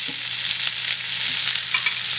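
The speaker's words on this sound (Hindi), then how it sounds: "इसको मैं थोड़ा लाल हल्का सा भूनूंगी" Four onions frying in a pan for an okra curry, giving a dense, steady sizzling hiss up close, with a faint stir or two and no talk.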